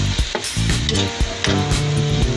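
Vegetables for pinakbet sautéing in a hot pan: steady close sizzling broken by rhythmic scraping and clattering stirs, with no talk.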